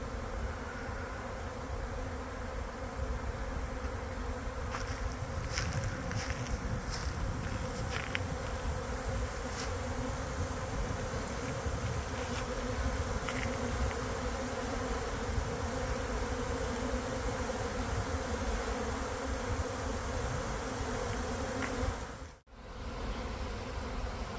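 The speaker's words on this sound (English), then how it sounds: "bees are just pouring inside the box" A dense, steady buzz of many honeybees swarming into a swarm box on a shed roof, humming together close and continuous, with occasional louder individual passes near the microphone.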